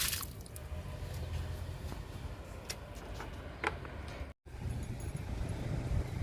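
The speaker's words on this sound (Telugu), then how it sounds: "స్టార్ ఫ్రూట్కి ఇస్తున్నా వాటర్." Water poured onto potted plants, including a star fruit plant, soaking into the soil in a home garden, with soft irregular drips, ticks and squishy trickles, quiet and close over faint outdoor background.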